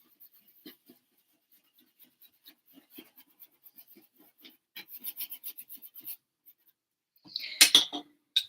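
A fan brush scrubs oil paint onto canvas for a tropical seascape, giving soft, faint, intermittent scratchy strokes that grow busier and end in a louder rasping burst near the close, with no talk.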